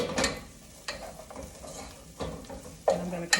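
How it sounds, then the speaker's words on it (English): Garlic sizzles in a pot as a spoon stirs it, with a steady frying hiss broken by several sharp scrapes and clinks of the utensil against the pot. "I'm going to continue stirring until it gets a little bit softer"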